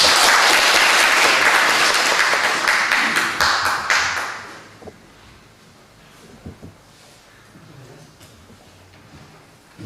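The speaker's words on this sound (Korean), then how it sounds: "박수 하겠습니다." Loud applause from a church congregation at a Korean Sunday worship service fills the first four seconds, then quickly fades to scattered claps and quiet room noise.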